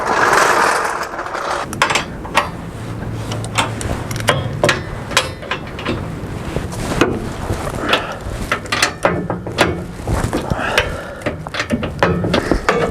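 Wrenching down bolts on a custom steel bumper for a restored GMC truck: a close, irregular run of ratchet clicks and metallic taps and clunks spread throughout, with no talking.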